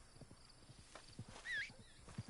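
A horse in Red Dead Online moving along at a gallop, with soft rhythmic hoofbeats and a brief whinny midway, fairly faint.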